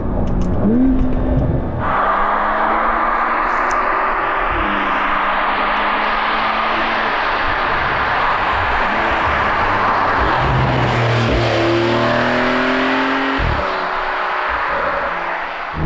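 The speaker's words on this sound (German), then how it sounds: "Und mit der Sportabgasanlage, gerade hier im Innenraum, ist es einfach so gut gemacht." Cabin sound of a Porsche 911 Carrera 992 with sport exhaust, driven on a winter road and pulling hard through the PDK gears, a loud continuous engine roar rising in pitch with each gear and dropping sharply at the shifts.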